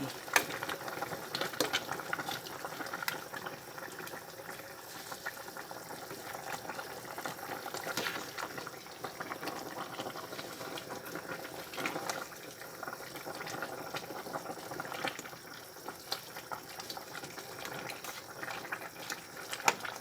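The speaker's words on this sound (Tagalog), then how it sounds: "Buksan na natin siya guys. Yan. Kulong-kulo na siya." A pot of pechay stew with tomatoes, pork bones and whole peppercorns boils uncovered, giving a continuous soft bubbling and hiss at low level, with faint irregular clicks throughout.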